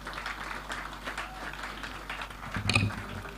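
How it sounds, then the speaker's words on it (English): An audience at a leadership forum on Africa's future applauds a speaker coming to the podium, a faint, steady patter of clapping that swells slightly near the end. "A big round of applause as she joins the podium,"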